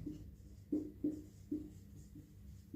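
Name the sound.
writing on a board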